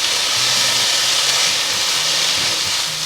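Diced potatoes stir-fried in a hot pan for a vegetarian minced-style potato dish give off a loud, steady sizzling hiss that runs unbroken from start to finish.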